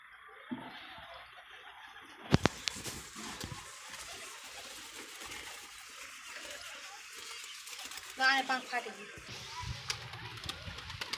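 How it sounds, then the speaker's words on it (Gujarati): Pigeons coo softly amid outdoor ambience, broken by a sharp clatter and a later burst that may be wings taking off, with a voice speaking intermittently. "તો મિત્રો હવે આપણે કબૂતર ઉડી ગયા છે, તમે જોઈ શકો છો"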